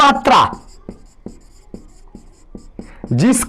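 A pen scratches on paper in a run of short, evenly spaced strokes, while a voice speaks at the start and again at the end.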